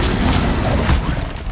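A fire spell cast in Hogwarts Legacy: a dense, loud rushing blast that fills the whole short moment, thick with low rumble and broad crackling hiss.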